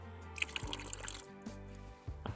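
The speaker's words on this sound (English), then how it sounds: "It's a folding bucket and just battery operated water pump" Water from a small battery-operated pump trickles and drips into a folding bucket sink inside a car, soft close splashes and dribbles with a faint motor hum underneath.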